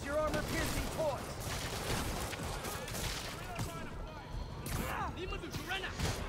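Gunfire in a Marvel's Spider-Man shootout crackles in rapid bursts of shots and impacts, loud and chaotic, mixed with thuds and game noise under talk.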